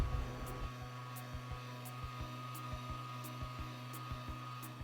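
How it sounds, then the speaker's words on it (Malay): An electric mixer beats butter cake batter, giving a steady, faint motor whine. A regular clicking tick repeats about every half second as the beaters turn. "Campurkan adunan butter tadi ke dalam mixer dan putar sehingga semuanya sebati."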